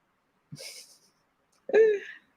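A person's voice imitating snoring: two separate breathy snore sounds, the second louder and more throaty, close to the microphone.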